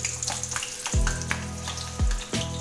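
Kathiyawadi stuffed chilies sizzle in hot oil in a pan, a continuous crackling fry with a few low clanks and scrapes of stirring, close and loud with no talking.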